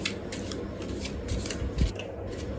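Tarot cards are shuffled quietly in a short burst of soft riffling and rubbing, with a slightly louder flick near the end and no speech.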